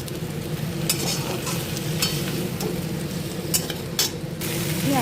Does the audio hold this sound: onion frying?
yes